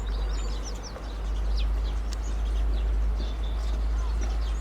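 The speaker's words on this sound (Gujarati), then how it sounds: "અને આ અવાજ સુંદર મજાનો ચકલીઓનો આવે છે" Sparrows chirp around millet grain set out as bird feed, quick faint scattered tweets layered over a heavy steady low rumble, with no voices.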